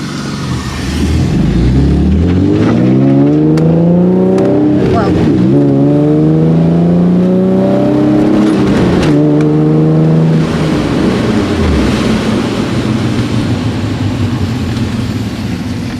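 A Nissan 350Z with test pipes and a Jones resonator roars as it accelerates hard through several gears on a rainy road, pitch climbing and dropping at each shift, loud and close, with some talk underneath.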